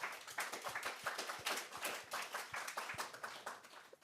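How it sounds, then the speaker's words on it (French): Applause from a conference audience at a talk on photonics, with many hands clapping in a dense, steady patter that fades slightly toward the end. "Sous vos applaudissements, mesdames, messieurs."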